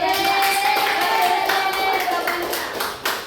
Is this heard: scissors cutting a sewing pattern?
no